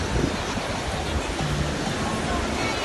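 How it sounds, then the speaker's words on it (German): Strong wind on a beach in Togo roars across the microphone in heavy, continuous buffeting gusts, with surf adding to the broad rushing noise. "am Strand und es ist so windig. Es ist gerade so windig."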